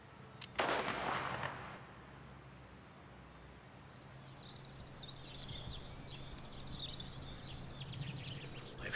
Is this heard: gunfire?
yes